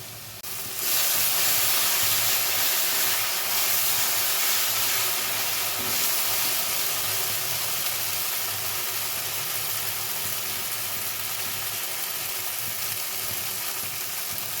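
Egg curry masala with onion, chili and salt frying in a pan, a steady broadband sizzle that starts abruptly and holds loud and even throughout with no voices.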